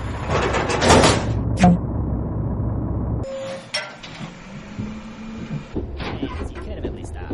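In the Henry Stickman video game, a door slides open with a mechanical whoosh partway through, followed by quieter ambient game sounds.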